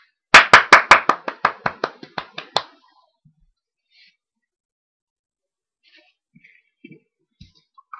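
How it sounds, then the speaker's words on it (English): About ten sharp hand claps ring out in a quick, slowing series, close and loud, with only a few faint clicks and small sounds in the quiet that follows. "let's give him a round of applause"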